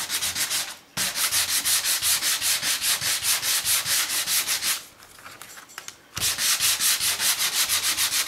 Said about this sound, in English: I'm just going to sand the edges with a sanding block